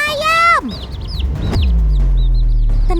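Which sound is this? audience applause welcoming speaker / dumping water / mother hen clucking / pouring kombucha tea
mother hen clucking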